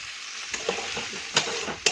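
Turmeric and salt fry in hot oil with a bright, close sizzle, punctuated by a few sharp spatters and clicks of stirring.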